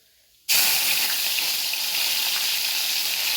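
Curry leaves dropped into hot oil burst into a sudden loud, steady sizzle that continues close and unbroken.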